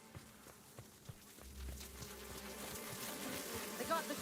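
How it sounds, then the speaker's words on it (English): Released mosquitoes from The Outer Worlds create a faint, thin insect buzz that grows a little louder toward the end, mixed with soft game ambience and light patters. "Do you hear buzzing? Yeah, I hear buzzing."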